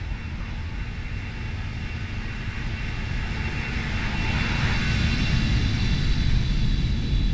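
Airbus A320 in a flight simulator game roaring past in a flyby, a steady broad jet-engine rumble and whine that swells gradually louder toward the end, with no voices.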